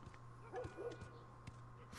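Dog whimpering in The Last of Us video game, a few faint short whines and yips over a low steady hum.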